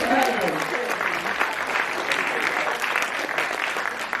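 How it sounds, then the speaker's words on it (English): Audience applause during an interview with boxer Khris Davis, loud sustained clapping from a crowd filling the whole stretch, dense and even with a few cheers mixed in. "can we clap it up for that?"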